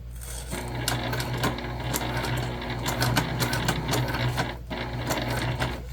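A sewing machine stitches backpack organizers with white thread, running steadily and close up with a continuous mechanical whir and fast rhythmic needle clatter across the whole stretch.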